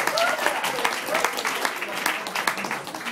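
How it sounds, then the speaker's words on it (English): Audience at a poetry reading claps and cheers, a lively wash of many hands with a few whoops on top, loud and near, with voices mixed in. "give yourselves a hand for coming out"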